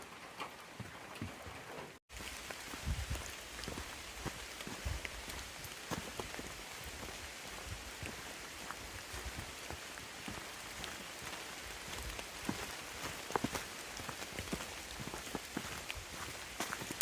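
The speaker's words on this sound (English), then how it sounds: "we still have another almost 6 miles to do before we end. So we're gonna brave this rain" Steady rain falls on the Appalachian Trail, a dense, even hiss of drops on leaves and ground with occasional nearby footsteps, continuous and moderately quiet throughout.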